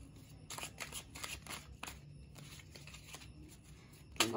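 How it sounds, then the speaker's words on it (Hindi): Tarot cards drawn from a deck, a quiet run of soft papery flicks and slides in quick irregular bursts, close and faint, ending with a brighter snap. "कुछ कार्ड्स यहाँ से निकालते हैं"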